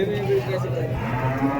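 Large bulls at the busy Vaniyambadi cattle market give a deep, drawn-out moo, close and fairly loud, over a crowded market murmur.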